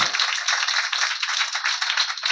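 A congregation at a Sunday church service claps hard and fast, a dense, bright patter of many hands that is close and loud and keeps going without pause.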